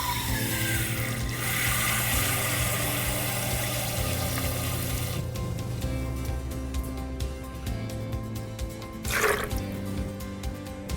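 Half a cup of water is poured into a Vitamix blender holding cashews, a close liquid splash and trickle over a steady background hum, with a brief clatter near the end.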